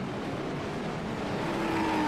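Race cars roar past on a circuit at the Roar Before the 24, a dense field of engines blending into a continuous loud drone with a rising whine near the end as cars stream by.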